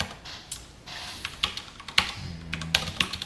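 Someone types Java code on a computer keyboard, producing irregular, close, crisp keystrokes in small clusters over a quiet background.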